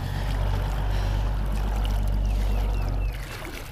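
Paddling a small boat on a river while trout fishing, with a steady low rumble of water and hull noise running throughout, close and continuous, dropping slightly near the end.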